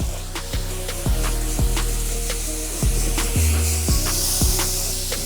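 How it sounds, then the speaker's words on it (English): A water spray rinses off-road cleaner off a dirt bike, giving a steady broadband hiss that runs throughout over a rhythmic music beat. "the water beads as I'm rinsing off the whole shot"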